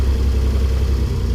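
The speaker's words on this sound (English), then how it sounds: "The Unimog is a high revving engine" Mercedes-Benz Unimog engine running with the clutch partly engaged, a steady low, rumbling drone that stays loud and even throughout.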